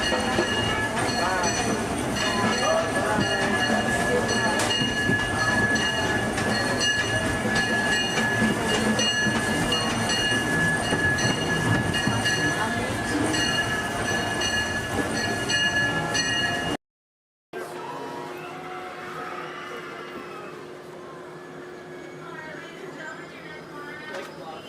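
Disneyland Railroad train stopped at Main Street Station on Main Street, USA, giving a steady close rumble of rail noise with a faint tonal ring, then a brief cut and quieter station ambience, with voices speaking throughout.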